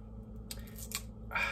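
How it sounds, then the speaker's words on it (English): A sticker peeled off the skin of a dragon fruit, heard as a few quick, close crinkly rips and snaps of paper and adhesive, faint against a low steady room hum, with no voices. "Let's take off the sticker."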